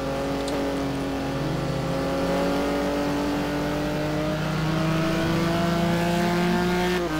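Race car engine in a racing video game at Road America, revving steadily and accelerating out of the carousel, its rising harmonic whine loud and continuous throughout with no talk.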